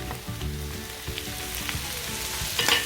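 Curry leaves and tomato fry for squid masala with a steady close sizzle and occasional stirring scrapes, and a brief louder crackle near the end.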